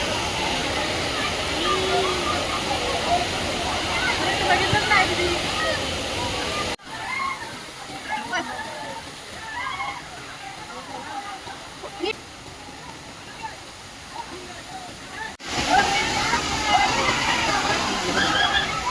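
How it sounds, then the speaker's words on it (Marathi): Anandwadi waterfall near Neral in monsoon, water pouring down with steady sloshing and splashing as people play in it, with voices and shouts mixed throughout and a quieter stretch in the middle. "वरतून पाणी येते, त्यामध्ये सगळे खेळतात."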